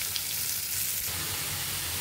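Vegetables, stalks and potatoes, hit a hot pan of small local shrimp and sizzle loudly in oil, a steady dense frying hiss with faint stirring, close and continuous, with no talk.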